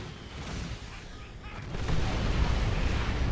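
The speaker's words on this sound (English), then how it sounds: "that tank buster barrage did tons of damage" Tank buster barrage in a real-time strategy match, a dense rumble of overlapping explosions and artillery-like booms that swells louder partway through and keeps pounding steadily to the end.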